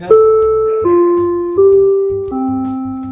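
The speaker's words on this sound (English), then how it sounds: "our doorbell system, which by the way sounds like this" A four-note electronic doorbell chime steps downward in clear, sustained tones, each note ringing into the next, close and alone.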